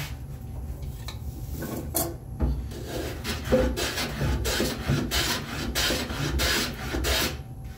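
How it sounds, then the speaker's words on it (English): A scrub plane pushed by hand across a wooden board for a spice rack, making repeated rasping, rubbing strokes in an uneven rhythm, close and moderately loud with no talk. "The scrub plane will go fast, especially on edges."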